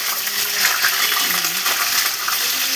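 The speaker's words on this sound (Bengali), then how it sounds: "কাঁচা আলু দিয়ে দিলাম গোটা। দেখো এটা আস্তে আস্তে ভাজা হবে" Whole raw potatoes drop into pressure-cooked mutton in a pan and fry with a steady, fairly loud sizzle, broken by a few light clinks and stirring scrapes.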